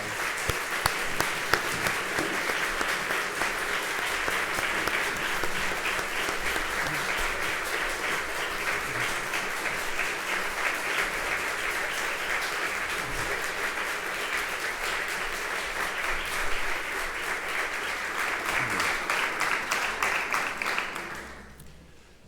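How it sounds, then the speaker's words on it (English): A concert audience gives a long, sustained round of applause to the standing singers and musicians, a loud, even roar of many hands that holds steady for about twenty seconds before cutting off. "give them an advance round of applause"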